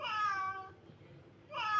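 A cat gives two clear, drawn-out meows close by, separated by a short quiet pause, at night indoors.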